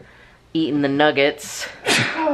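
Someone talks briefly, then a single sharp sneeze bursts out, followed by a second breathy burst, close and loud, in a home kitchen setting.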